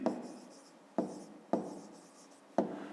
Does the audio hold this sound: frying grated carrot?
no